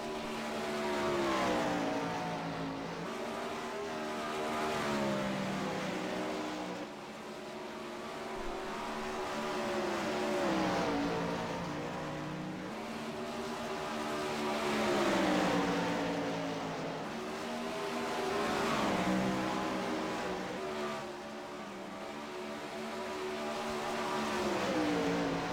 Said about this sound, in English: to do some dirt track racing